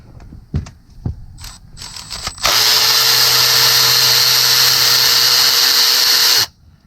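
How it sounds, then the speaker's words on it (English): A Milwaukee cordless ratchet wrench works on engine bolts of a 2014 Acadia 3.6L during a timing chain job. After a few clanks and short bursts, a loud, steady motor whine runs for about four seconds, then stops abruptly. "I'm going to use my Milwaukee ratchet wrench, since it has a shorter clearance"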